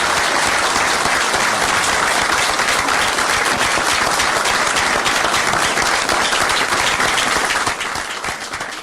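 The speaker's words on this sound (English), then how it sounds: "Turn it down for the applause." Loud, dense applause fills the Georgia state capitol as the new U.S. Senator is announced, a continuous roar of many hands clapping for about eight seconds, then easing slightly at the end.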